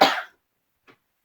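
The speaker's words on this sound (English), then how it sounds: "So I'm just going to cough." A single sharp cough, loud and close, followed by a faint short throat sound.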